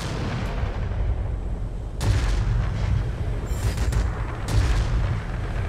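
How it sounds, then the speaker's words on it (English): A bomb dropped onto an airfield in the combat flight game World of Warplanes 2.0 goes off in heavy booms, two big blasts a few seconds apart over a constant rumbling engine drone, with no talk. "He actually tried to kill that guy with the bomb."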